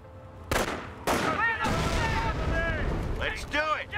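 Machine gun fire and explosions from the World War II strategy game Company of Heroes: sharp bursts and booming blasts, followed by ringing whines and rattling, all loud and mixed together.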